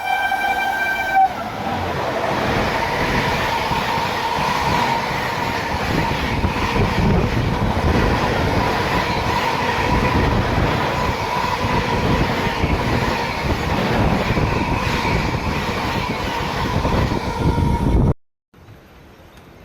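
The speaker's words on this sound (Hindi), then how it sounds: "जैसा आपने देखा कि बैक टू बैक राजधानी ने हमें ओवरटेक किया।" A Sealdah Rajdhani express overtakes on the adjacent track, a loud continuous rumble and rattle of passing coaches heard from a moving train, holding steady for most of the time before cutting off abruptly.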